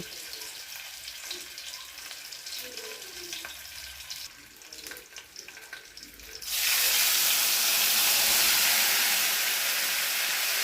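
Chili and turmeric paste hits hot oil in a pan while ilish fish in mustard-poppy sauce is cooked. A quieter crackle gives way to a loud, sustained sizzling hiss halfway through, close by.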